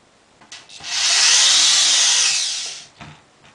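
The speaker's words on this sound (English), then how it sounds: "I'm going to attach them with some wood screws, 2mm wood screws, and I'll just screw them straight in" A power driver runs a 2mm wood screw straight into wood for about two seconds, one steady whirring burst with a faint click before and after, close and loud with no talking.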